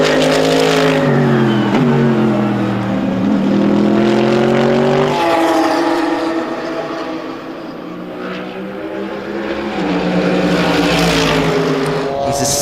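A Lotus race car competing in the GTX class of an ESET Cup GT race at Balaton Park, Hungary, its engine note rising and falling through gear changes as it passes, loud and near, with a commentator talking over it.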